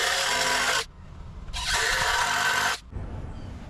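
A power drill drives screws deep into lumber while a broken garden gate is being rebuilt: two loud, sustained whirring bursts of about a second each, with a pause and quieter background between them.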